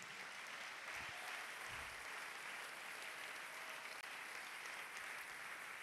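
Sustained applause fills a church service, steady and dense from start to finish, a broad wash of clapping with no voices standing out.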